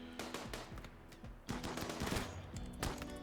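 Rapid gunfire from a RimWorld firefight, several weapons firing overlapping bursts and volleys over a steady game-music drone, loudest around the middle and continuous throughout.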